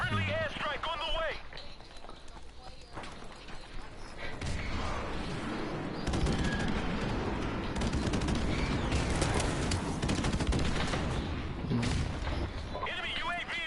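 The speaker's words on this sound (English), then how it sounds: "Friendly airstrike on the way." Friendly airstrike in a video game, with sharp bursts of gunfire and crackling explosions building into a heavy, continuous barrage over about fourteen seconds, mixed with voices talking throughout.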